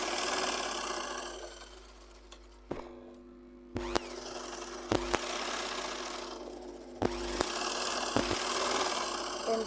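Electric sewing machine stitching a garment's shoulder seam where front and back pieces join near the neckline, a steady close mechanical whir in short bursts with sharp clicks between runs, and no talking.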